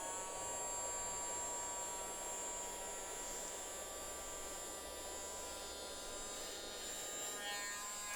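Ryobi 4V USB lithium handheld vacuum sucking up sawdust, a steady, close motor whine with a continuous airy hiss and no change in pitch throughout.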